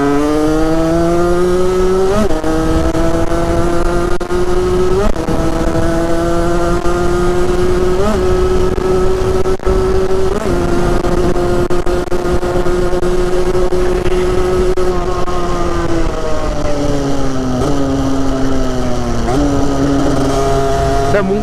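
A car engine revs high and hard while the clutch slips, a loud, near, strained whine rising and falling in repeated waves with gear-like pitch jumps, continuous without talk.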